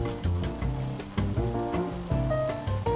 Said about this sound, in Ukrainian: Та смажимо 30 секунд.